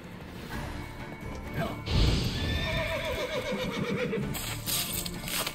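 In The Witcher 3, the horse Roach gives a loud whinnying neigh beside clopping hooves and a sharp crash, with game effects and a faint voice in the background.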